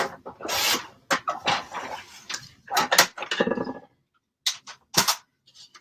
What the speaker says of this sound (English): now you can trim the length off down here at the bottom